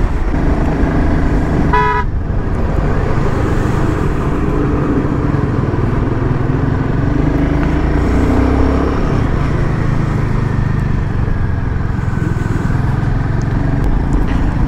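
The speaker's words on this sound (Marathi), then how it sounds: "आज ट्रॅफिक भरपूर आहे कारण गाड्या काय पास होतच नाही आहे" Heavy traffic on a winding hill road with fine sand, a continuous loud roar of car and motorbike engines close by, with a short horn toot early on.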